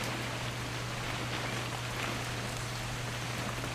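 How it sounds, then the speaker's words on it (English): Steady rain falls in the video game What Remains of Edith Finch, an even wash of hiss across the whole stretch with a low hum underneath and no voices. "It's gonna rain the whole weekend, isn't it?"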